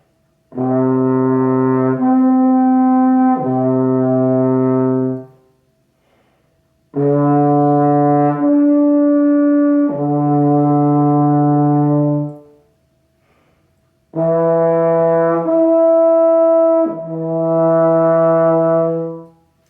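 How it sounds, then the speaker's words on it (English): Three long sustained brass tones, each slurring smoothly from a low note up an octave and back, separated by short silences; loud and alone. "We are slurring from one note to the same pitch an octave higher"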